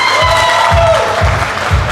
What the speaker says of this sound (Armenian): թող ծափեր տան Հարսիկի կողմը